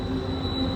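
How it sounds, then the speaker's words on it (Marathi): A train rumbles past on a railway with a loud, steady roar and a high wheel squeal, heard close by. "train oily"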